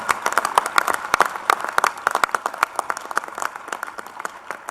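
An audience applauds in a conference hall: dense, steady clapping from many hands throughout, moderately loud, with no talk over it.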